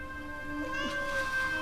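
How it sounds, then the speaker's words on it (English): A cat meows in a rising, drawn-out cry lasting over a second, close and clear, with faint room tone and no talking. "Is that Arthur Rutt's cat?"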